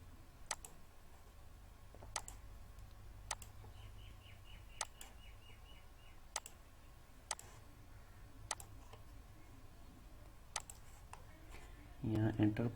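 Enter key presses on a computer keyboard during embroidery digitizing in Wilcom e2, single sharp clicks spaced about a second apart, close and distinct, with a voice talking between them.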